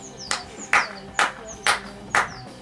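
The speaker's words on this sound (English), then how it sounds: "Round of applause for Dane." About five sharp, spaced claps ring out outdoors in a garden, a small round of applause for Dane.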